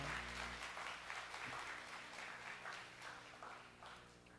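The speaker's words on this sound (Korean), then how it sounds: "박수로 환영해 주세요" A church congregation claps to welcome new members, a soft, steady patter of many hands that stays faint and even throughout, with a low hum underneath.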